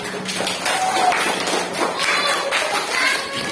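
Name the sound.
applause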